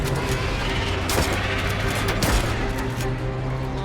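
Dense gunfire in the video game A Quiet Place: The Road Ahead, with scattered loud shots over a constant roaring engine-like rumble while driving; continuous and busy throughout.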